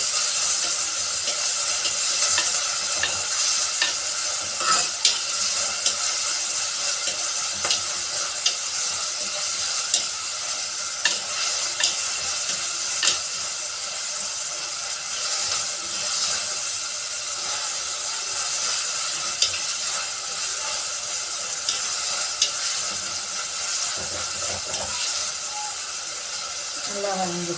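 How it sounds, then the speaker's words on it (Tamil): Ingredients sauté in a hot pan, giving a loud continuous sizzle and hiss with steady scraping from stirring and occasional clinks throughout. "அதையும் கொஞ்சம் நல்லா வதங்க விட்டுக்கோங்க."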